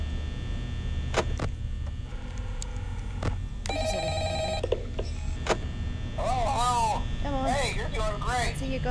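Telephone ringing in the Five Nights at Freddy's horror video game, with repeated electronic ring bursts over a steady background hum; a brief harsher chirping passage sits in the middle and the rings sound close and clear.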